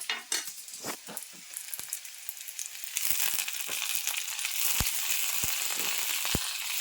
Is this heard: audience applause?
no